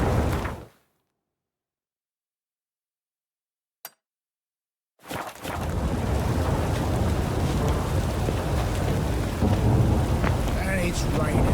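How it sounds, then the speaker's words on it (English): Rain and a thunderstorm in The Witcher 3 video game arrive abruptly after several seconds of silence, a dense, steady downpour with deep rumbling thunder rolling underneath, loud and continuous to the end. "And it's raining again."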